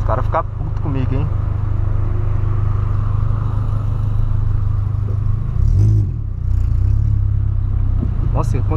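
Volkswagen Polo with a straight-pipe exhaust, heard from inside the car in a tunnel: a loud, steady engine rumble with revving throughout and a sharp burst near the middle, while people talk over it.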